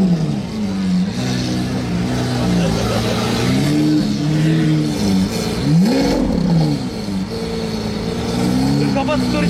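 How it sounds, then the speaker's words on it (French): A Lamborghini Aventador revs on a road during a Monaco hypercar gathering, its engine note rising and falling in loud, sweeping surges over several seconds, with crowd noise and talk around it. "Ouais, elle fait un bruit la Aventador"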